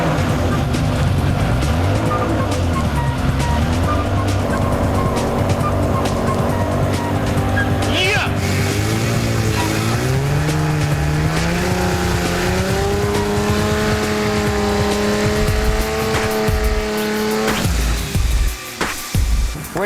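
A Toyota Supra engine started for the first time after a build, a loud, close, rough idle that rises in revs in stepped pulls, then cuts out abruptly near the end.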